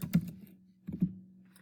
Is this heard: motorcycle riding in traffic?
no